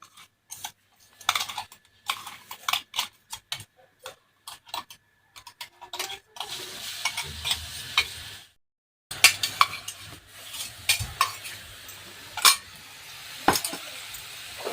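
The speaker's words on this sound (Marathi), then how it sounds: "तर छान मसाला पण असा दोन ते तीन मिनटं छान तळून घ्यायचं आहे छान भाजून घ्यायचं तेलामध्ये" Ground masala frying in oil for a dill and spinach bhaji, bursts of crackling sizzle broken by brief pauses, with irregular spoon taps and scrapes, close and moderately loud.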